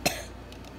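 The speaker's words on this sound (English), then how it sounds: "I don't like you coughing." A person gives one short, sharp cough at close range, then nothing but quiet room noise.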